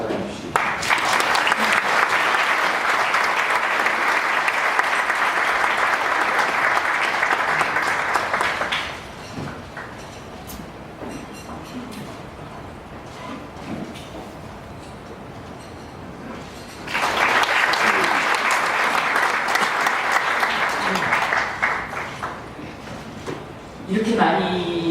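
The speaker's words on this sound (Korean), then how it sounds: "박 장관님을 큰 박수로 환영해 주시기 바랍니다" A large breakfast-meeting audience at the Korea Chamber of Commerce and Industry gives loud sustained applause welcoming the minister. It fades into a speaking voice midway, then a second long round of clapping swells before talk resumes.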